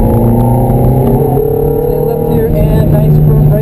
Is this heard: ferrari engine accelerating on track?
yes